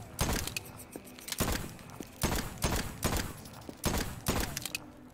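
Video game Voidtrain gunfire shooting at enemies: a rapid series of sharp, fairly quiet bursts, about seven shots in uneven clusters, with brief gaps between them.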